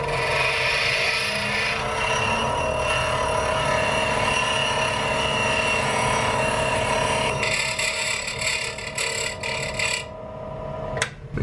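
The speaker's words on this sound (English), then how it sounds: "I'm going to take all the fasteners out of there and grind them down so they're about a 1/4 inch shorter." A grinder working down the handlebar clamp fasteners of a Kawasaki Super Sherpa 250, shortened by about a quarter inch, makes a steady, loud, close rasping whine that runs unbroken for about ten seconds and then cuts off.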